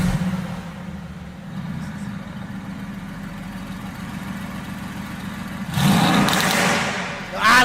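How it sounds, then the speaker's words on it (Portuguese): A Mercedes-AMG GT S with its exhaust valve open idles with a low rumble beneath nearby talk, then revs sharply into a loud, raspy burst near the end before falling back. "Válvula do escapamento aberta, a gente aperta o botão."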